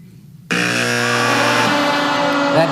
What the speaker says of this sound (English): That dreaded buzzer and those dissonant horns.